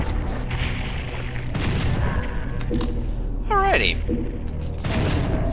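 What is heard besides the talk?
rocket launcher explosions in video game DOOM 64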